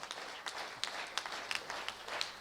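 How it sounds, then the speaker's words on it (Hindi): An audience at a Hindi poetry recital claps together, a steady patter of many hands with a few sharper claps standing out, heard fairly faintly and with no talk. "हाथ उठा के तालियां होनी चाहिए भाई"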